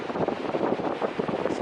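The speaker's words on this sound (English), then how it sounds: "so windy." Steady gusts of wind buffet the microphone, a continuous rumbling roar with no voices.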